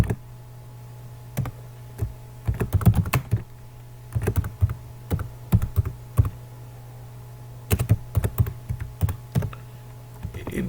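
Keys clatter on a computer keyboard while someone types text into an Excel spreadsheet, with short bursts of quick, crisp clicks and pauses between them over a steady low hum.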